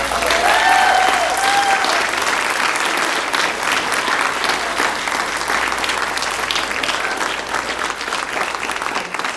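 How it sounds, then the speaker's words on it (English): Sustained audience applause for drama and chorus performers at a school event, a dense, steady roar of many hands clapping that holds for several seconds and gradually thins toward the end. "another round of applause for them and their work"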